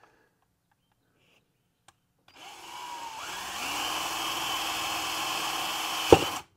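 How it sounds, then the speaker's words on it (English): A power drill spins up after a short quiet stretch to bore out the center of a cap during a Jeep Wrangler 4xe rock light install, whining steadily at close range and ending with a sharp bite. "I've got my drill bit, and we're going to go ahead and drill out the center of this."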